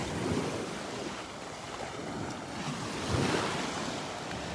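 Ocean waves break and wash onto a clear-water beach at Delnor-Wiggins, a continuous roaring surf with two swelling crashes and wind rumble buffeting the microphone, no voices.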